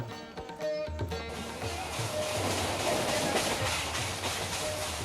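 Indian steam-hauled fast passenger train running on rails, a steady rolling rumble with faint rhythmic clatter building from a quieter start; a voice speaks briefly at the beginning.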